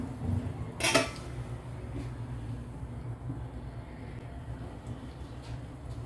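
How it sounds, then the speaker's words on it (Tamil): A lid is set onto a paniyaram pan cooking spicy wheat-flour batter, giving one short metallic clank, followed by a quiet, steady background hum. "இப்போ மூடி வச்சிடறேன்"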